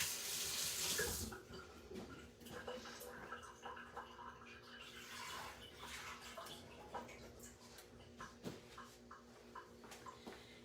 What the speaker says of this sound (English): I just put some water in my big stainless steel bowl